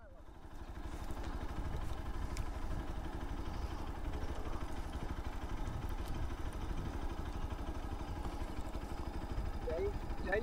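A motorcycle engine runs steadily close by as the bike rides up to the door of a parish church in Zaña, a low continuous rumble lasting the whole stretch with faint background sounds.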